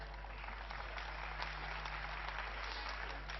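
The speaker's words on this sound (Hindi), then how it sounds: "आप एक बार तालियां बजाएं।" Audience at a Hindi patriotic poetry recital gives steady, continuous applause, somewhat distant and muffled under a constant electrical hum.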